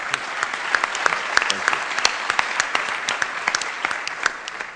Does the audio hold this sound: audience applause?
yes